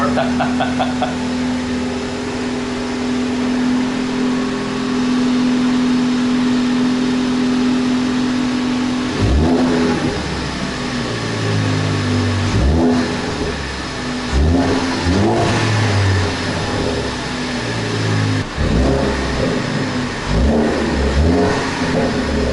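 A Ford Focus ST with an upgraded charge pipe idles steadily, then is revved in a series of sharp throttle blips, each rising quickly and falling back, loud and close under the hood.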